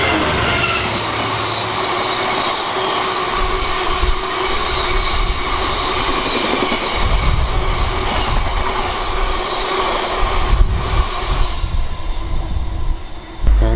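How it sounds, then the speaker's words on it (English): A Freightliner class 66 diesel freight train running from Small Heath to Tunstead sidings passes close by, with a loud, steady rumble of wagons, rhythmic wheel clatter and a brief squeal near the end. "And another freight coming up."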